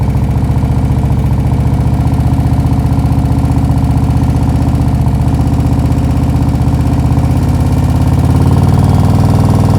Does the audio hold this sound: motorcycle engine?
yes